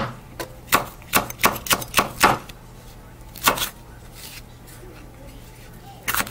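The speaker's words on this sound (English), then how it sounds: "Just a quick chop." Quick knife chopping on a board, a fast run of about seven sharp, close chops followed by a pause and a couple more strikes, with no talk over them.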